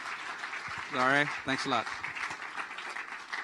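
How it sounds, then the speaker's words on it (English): Audience applause at a live entrepreneurs' event in Armenia, a short burst of clapping from a crowd heard under a voice speaking over it. "Please join me in a round of applause"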